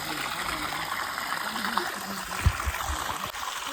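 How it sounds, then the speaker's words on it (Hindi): Water runs down from higher ground along a mountain trail on the Harihar Fort trek, a steady broadband stream and trickle with some wind and a few low thumps. "चल ऊपर से आ रहा है पानी कहीं से"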